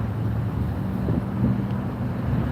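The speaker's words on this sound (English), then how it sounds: "Yeah, a little windy here, definitely." Wind rushes past a microphone during a morning bike ride in downtown Las Vegas, a steady low rumble with faint background hum and no talking.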